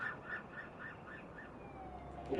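A faint, distant ambulance siren wails in a steady rising and falling cycle, ending with a brief louder noise close by.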